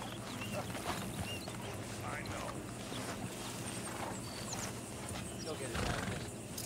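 An American Standardbred horse in Red Dead Redemption 2 neighs amid clopping hooves, set against a steady ambient bed, with a louder whinny toward the end and talking over parts of it.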